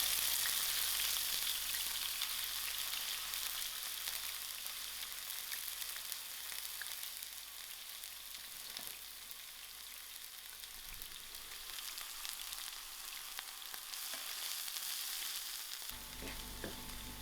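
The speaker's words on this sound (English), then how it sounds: "To my oil, I'm going to fry up my onions first." Onions frying in oil in a non-stick frying pan, heard as a continuous close sizzle and crackle with occasional stirring scrapes, steady throughout and with no talking.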